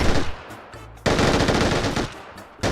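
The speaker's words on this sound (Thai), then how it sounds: "นี่ไอ้บ้านมีเสียงปืนยิง เห็นไหม" Rapid bursts of automatic gunfire in the video game PUBG, loud and close, broken by a brief pause and then a sustained stretch of dense shooting.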